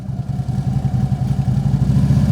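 A motorcycle engine holds steady at about 2,000 RPM before take-off, a close, loud, even low throb with rapid regular pulses and no voices.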